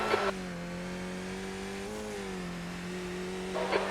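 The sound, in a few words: race car approaching in a video game racing sim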